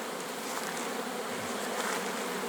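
Honeybees fly around a hive entrance under linden trees, heard as a dense, steady buzzing swarm drone that fills the whole moment, close and continuous with no talking.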